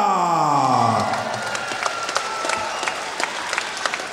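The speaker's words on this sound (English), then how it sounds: "Big round of applause for the bad Benny Dyer." A boxing crowd applauds after a first-round knockout, with scattered claps and some cheering after a sliding announcer-like tone at the start, fading into sparse individual claps.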